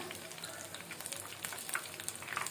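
Soya chunks, also called meal maker, deep-frying in hot oil for a Soya 65 dish, giving a steady dense crackling sizzle with brief brighter pops near the end, moderately close and without any talk.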